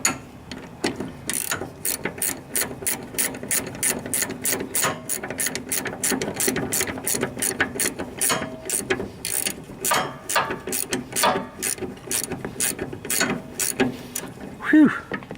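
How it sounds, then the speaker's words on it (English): Ratchet wrench clicking steadily while unscrewing fine threaded bolts on a riding lawnmower, a long run of rapid, close, evenly spaced mechanical clicks with brief pauses between strokes. "These are fine threaded bolts, so it takes forever to unscrew them."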